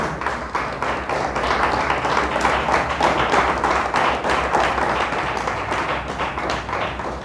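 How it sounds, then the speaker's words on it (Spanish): A church congregation applauds God during a Spanish-language sermon, dense, loud, continuous clapping filling the room for several seconds with no voice over it. "Le damos un aplauso a Dios."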